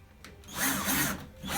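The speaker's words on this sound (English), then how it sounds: "I got a 1/8 drill bit here, and I'm just going to pre-drill the hole." A power drill with a 1/8 inch bit bores a pilot hole for a wall anchor while a bathroom towel bar is installed, whirring up in one close burst that lasts about a second before easing off.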